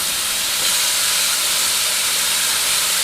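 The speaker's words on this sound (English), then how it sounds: "that's exactly what we want to hear, that nice sizzle" Hamburger patties sizzle in a hot pan, a steady, loud sizzle with fine crackling hiss, continuous and even throughout, no voices.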